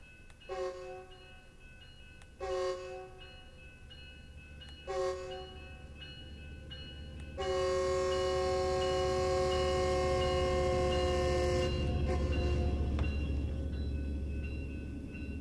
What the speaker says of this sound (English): Here comes the holiday train in the middle of the day.